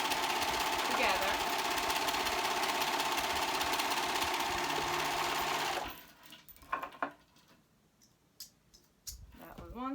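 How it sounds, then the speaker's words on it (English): A serger overlock machine runs steadily while stitching the shoulder seam of a T-shirt, a loud continuous whirring for about six seconds, then stopping, followed by quiet handling noises and a speaking voice. "now we're serging the top shoulder seam"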